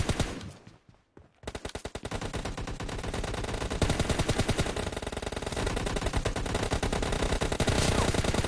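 Rapid automatic gunfire from a mobile shooter video game team deathmatch, sustained and loud after a brief pause near the start, with dense bursts running continuously to the end.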